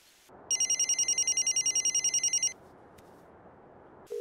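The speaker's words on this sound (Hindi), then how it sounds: "ये लीजिए रिंग जा रही है" A telephone rings on an outgoing call, a steady two-second burst of rapid, trilling bell-like pulses over a quiet background, then silence with a faint sound starting at the very end.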